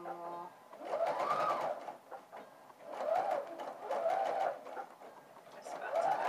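A sewing machine stitches bias binding in bursts of steady mechanical whirring, with short pauses between runs, close and moderately loud.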